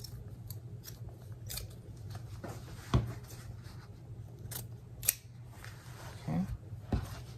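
Scissors snip the corners of a sewn fabric wallet, a few sharp, separate cuts spaced apart over a low steady hum, close and quiet.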